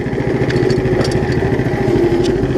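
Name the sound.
Case 700 tractor with Power Fist 420cc engine running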